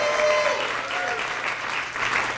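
An audience at a Best Buddies ambassador showcase applauds, a dense, steady wash of clapping from a large crowd that carries on throughout with faint voices mixed in.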